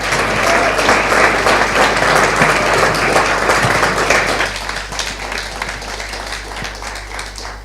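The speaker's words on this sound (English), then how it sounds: "I think we should give them a big round of applause to thank them for their time." Dense, loud audience applause at a county awards evening thanking the judges, a sustained roar of many hands that drops to a softer, thinner clapping about halfway through.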